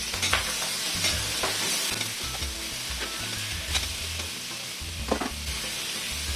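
Sautéed mixed vegetables seasoned with Knorr are stirred in a pan, with a loud continuous sizzle broken by repeated scraping strokes of the utensil, close up and without speech.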